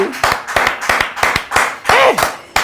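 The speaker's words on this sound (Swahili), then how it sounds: "makofi tafadhali" A studio audience at a live talk show claps in a brisk, fairly close burst of sharp individual handclaps that come in uneven waves, while a voice talks faintly underneath.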